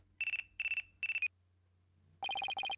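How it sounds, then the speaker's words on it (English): A phone ringtone from the video game Phoenix Wright: Ace Attorney – Dual Destinies chimes in three short trilling bursts, pauses, then returns as a faster, louder run of pulsing electronic beeps, clear with no talk. "Looks like I have a phone call."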